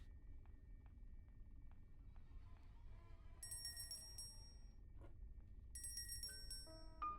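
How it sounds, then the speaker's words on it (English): A handbell rung like a dinner bell, its bright metallic rings arriving in two bursts of repeated strikes over a low rumbling background, fairly faint. "I'm ringing the bell like a dinner bell."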